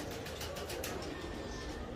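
Armenian breed pigeons cooing in a pigeon loft, soft repeated coos under a steady background hiss, faint and close, with no talk.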